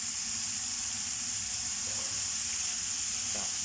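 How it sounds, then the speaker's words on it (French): Onions browning in a hot pan in a restaurant kitchen give a steady, close, continuous hiss and sizzle with no pauses and no voices. "revenir un peu les oignons là"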